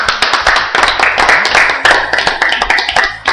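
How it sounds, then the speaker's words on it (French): A church congregation claps in quick, loud, rhythmic bursts for the Lord, hands slapping close and steady over a few seconds with faint voices mixed in. "Applaudissons pour le Seigneur"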